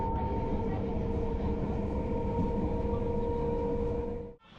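Sealdah–Diamond Harbour local train rolling along, a steady loud rumble and rattle of carriages with a sustained droning tone, continuing evenly before dropping away abruptly at the end.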